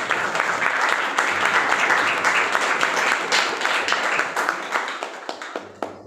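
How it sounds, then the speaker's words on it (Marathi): An audience applauding at a student award and felicitation ceremony, dense sustained clapping from a crowd that thins out toward the end. "जोरदार टाळ्या वाजवा"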